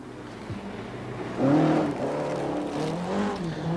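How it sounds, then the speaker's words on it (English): A rally car engine revs hard and accelerates away out of a corner on the 1985 Lombard RAC Rally, the note rising and falling through gear changes, fairly close and loud. "Accelerating away, desperately trying to keep the revs up to be as fast as possible out of the corners."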